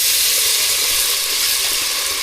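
Garlic-mint paste hitting hot oil in a tempering with onion and garlic, giving a steady, loud, close sizzle that holds evenly throughout with no pauses and no voices.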